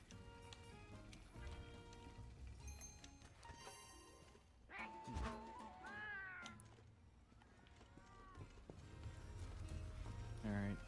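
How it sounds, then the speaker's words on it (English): Cartoonish cat meows and chirps from a Palico companion in the game Monster Hunter: World, mixed in with game music and interface sounds, fairly loud and repeating across the scene. "Mama Kitty!"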